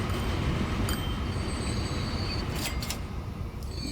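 A train rumbles steadily and close by with a few squealing, clanking accents as it arrives. It is an oil train in Transport Fever, and no one speaks over it.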